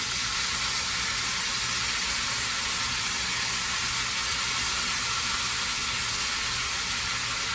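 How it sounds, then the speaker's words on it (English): Steady loud sizzling of chicken meatballs frying in a pan, a constant close hiss with no talking. "That is really sizzling."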